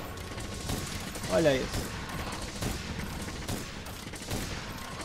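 Rapid bursts of heavy bowgun fire from Monster Hunter World, pierce ammo 3 shots with mechanical clatter and impacts, repeating across a few seconds beneath someone speaking.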